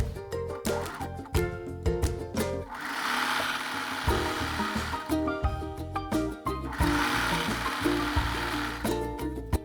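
A sewing machine stitches elastic onto a bra in repeated rhythmic bursts of fast mechanical whirring and clattering, separated by short pauses. Close and fairly loud, with no talking.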